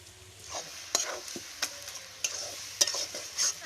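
Taro greens and chickpeas being stirred in a wok, with scraping spoon strokes and soft sizzling recurring every half second or so, close and fairly quiet.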